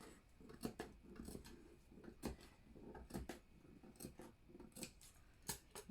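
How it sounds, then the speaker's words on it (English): Scissors snip repeatedly at the armholes of a printed Ankara cotton baby dress, producing a quiet run of short, crisp cuts with no talk. "We need to then notch. Be careful not to cut through your seam lines, not to cut through your stitches."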